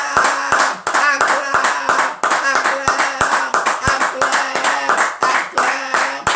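A church congregation in Côte d'Ivoire claps in a steady rhythmic beat while acclaiming Jesus, loud and close, with singing and voices over the clapping throughout.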